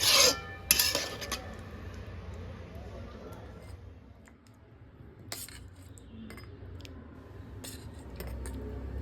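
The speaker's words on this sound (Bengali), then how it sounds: "ছেলের জন্য খাওয়াটা বেড়ে নিচ্ছি" Metal utensils clink and scrape against dishes while food is served out for a son in a home kitchen, a few sharp clatters at the start and scattered taps later over a quiet room.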